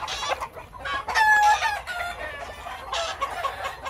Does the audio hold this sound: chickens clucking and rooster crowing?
yes